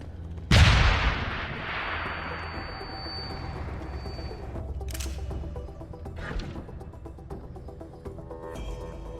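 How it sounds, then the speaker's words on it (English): A single sharp flash grenade blast in the video game Deus Ex: Human Revolution, loud and sudden with a long decaying ring, followed by faint clanks and mechanical clicks. "That's a flash grenade."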